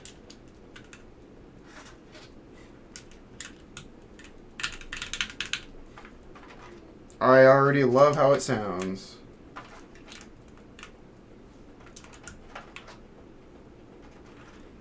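Keycaps are pressed onto a mechanical TKL keyboard during a build, making scattered light plastic clicks and taps, with a short stretch of speech in the middle.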